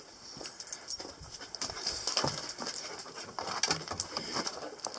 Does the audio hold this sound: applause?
no